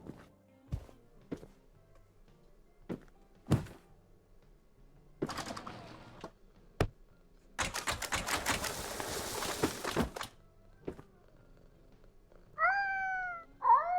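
A cat meows in a video game, a few short plaintive calls near the end, after scattered clicks, thumps and a burst of rustling noise.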